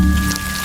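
Cartoon rain in Ben and Holly's Little Kingdom falls as a brief, steady hiss with a faint low hum beneath it. No one speaks over it.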